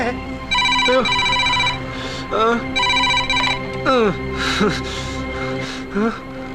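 A telephone rings in a Telugu comedy scene, an electronic ringtone sounding in repeated bursts with short pauses between, loud and close, while other tonal effects and voices break in between the rings.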